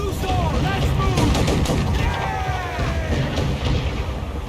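Ship cannons and gunfire in an Assassin's Creed Black Flag naval fight, a dense rolling barrage of shots and booms at close range, with shouted crew voices mixed in.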